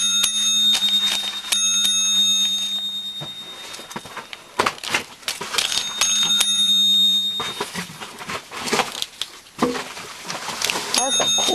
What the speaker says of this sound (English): That's a cool bell, isn't it?